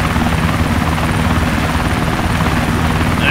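A helicopter in the video game DayZ thrums loudly and steadily with a constant rotor beat, close and alone with no talk over it.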